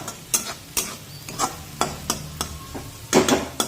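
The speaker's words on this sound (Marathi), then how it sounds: "2 मिनिटे हे मटार सुद्धा मी छानपैकी या फोडणीमध्ये परतून घेतलेले आहे" Frozen peas fry in a spiced oil tempering while a spoon stirs them, making repeated scraping knocks against the pan every half second or so over a soft continuous sizzle, close up with no talking.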